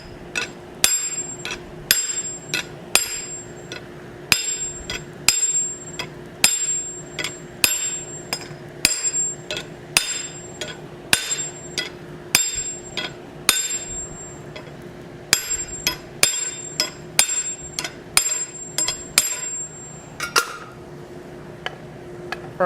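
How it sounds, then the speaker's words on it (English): Steady series of sharp, ringing hammer blows on a flatter as steel is forged into a rock bar (digging bar) from a tent stake, struck at a brisk, fairly even rhythm with short pauses, loud and close with no talking. "Clean this up a little bit more using a flatter."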